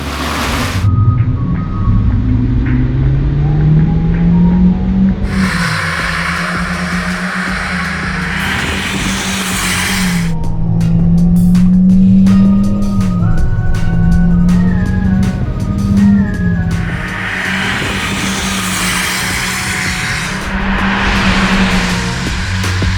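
A Corvette C8 and a Shelby GT350 drag race down a track, engine roar rising and falling through gear changes, with bursts of louder exhaust and road noise passing by.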